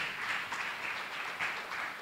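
A church congregation at a Sunday service claps for Jesus in a soft, continuous patter of many hands that sounds distant and even throughout.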